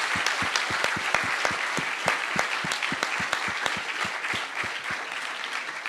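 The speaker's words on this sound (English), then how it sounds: "a big applause to all of our panelists" Audience at a fintech recruiting event applauds a panel of speakers: steady, loud clapping from a full room, with sharp individual claps standing out, continuing for several seconds before starting to thin.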